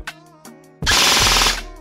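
An E&C EC-603 airsoft rifle fires a rapid full-auto burst of roughly three quarters of a second, loud and close, after a few faint mechanical clicks from handling.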